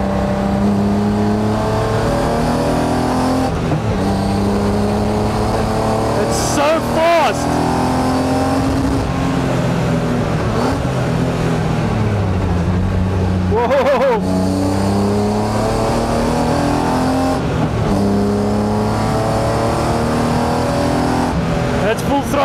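A BMW E36 track car engine revs hard at full throttle, climbing in pitch through repeated gear changes, loud and close from inside the car, with a person speaking over it.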